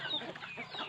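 Chickens on a rural Bicol farm cluck in a steady, close flock chatter with scattered higher squawks, lasting about a second.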